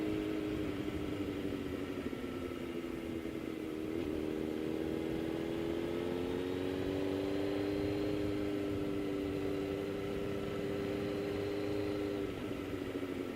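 A motorcycle cruising along the Tail of the Dragon road, its engine droning steadily and close for the whole stretch, with the pitch rising and falling gently as the rider shifts and changes speed.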